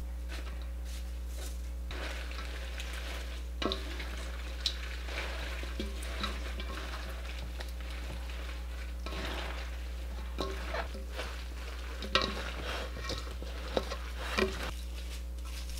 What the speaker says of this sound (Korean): 만든 양념에 절인 배추를 넣고 양파, 쪽파 넣어 버무려 주세요